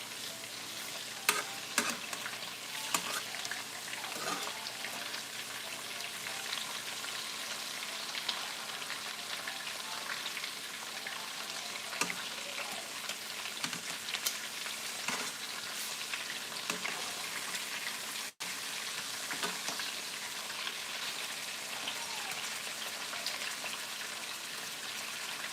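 Oxtails sizzle and fry steadily in a pan as they brown, a continuous crackling hiss with scattered pops and occasional utensil scrapes, close and even throughout with no talking.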